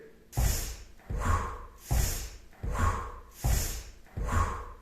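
Rhythmic breathing during a stepping-in-place exercise in a children's physical education breathing lesson: five strong, regular breath cycles, each a loud inhale followed by an exhale, close and with no talk.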